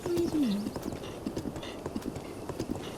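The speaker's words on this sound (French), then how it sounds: "Ça fait longtemps que je n'étais pas monté à cheval." Horse hooves clip-clop steadily in The Legend of Zelda: Breath of the Wild as the player rides, with a brief whinny at the start and a soft game ambience underneath.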